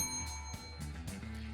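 A bell sound effect rings in a short series of quick, bright dings, fairly faint over a low background hum.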